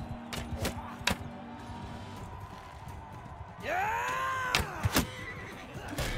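A horse neighs in the Mount & Blade 2 Bannerlord video game, a loud whinny with falling tones rising over game ambience, surrounded by sharp thuds and impacts.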